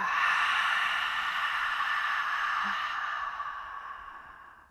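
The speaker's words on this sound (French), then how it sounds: "C'est pas à donc vraiment expirer par la bouche, la bouche bien ouverte." A long, steady exhale through a wide-open mouth during yoga breathing, an airy hiss that fades out gradually over a few seconds, close and quiet.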